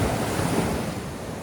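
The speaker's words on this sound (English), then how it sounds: "The waves come in and then it sort of stops a bit and then has to crash here." Ocean surf rolls and crashes onto the shore at Gerroa, New South Wales, a continuous loud wash of breaking waves mixed with gusting wind noise, no voices.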